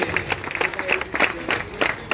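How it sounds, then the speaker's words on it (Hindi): A village audience at a jatra theatre stage claps for the performing artists in an uneven, rhythmic burst of applause, with bursts of hand claps rising and falling throughout. "एक जोरदार ताली हो जाए मेरे दोस्तों सभी कलाकारों के लिए"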